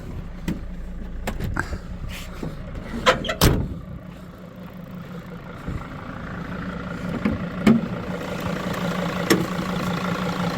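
A 2006 Mercedes Sprinter 316 van's 2.7 diesel engine idles with a steady low hum, punctuated by scattered clicks and knocks nearby; no one speaks.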